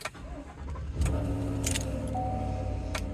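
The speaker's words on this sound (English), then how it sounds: "Start it up for you." A 2022 Chevrolet Silverado work truck with a 5.3-liter V8 starts up after a brief crank, settling into a steady, loud idle rumble with a faint metallic jingle of keys.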